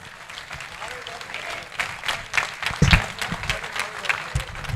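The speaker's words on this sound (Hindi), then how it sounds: "मैं चाहता हूं कि पूरी मोहब्बत से तालियों की गूंज में इनका इस्तकबाल कीजिए" Audience applause at a mushaira in Sargodha welcoming a poet to the stage, a dense wash of clapping that swells midway, with a voice speaking over it.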